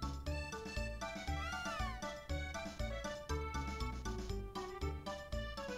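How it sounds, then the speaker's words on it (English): Cartoonish cat meows in the video game Chrono Trigger during the Moonlight Parade ending, playing over a loud, busy game music track with the meows blended into the melody. "The cat!"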